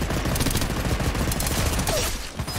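Rapid gunfire crackles almost nonstop in the mobile game Apex Legends, dense overlapping shots with sharp bursts, loud and close, with no one talking.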